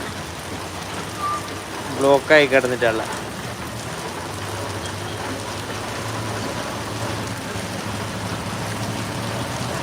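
Steady rain pours down over a town, a dense even hiss that runs the whole time, with someone speaking briefly near the start.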